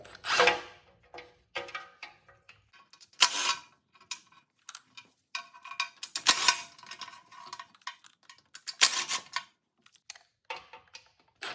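Clicks and ratchet-like bursts come from oil pan bolts being removed on a Fox Body Mustang, irregular and close, spaced by quiet pauses with no voices.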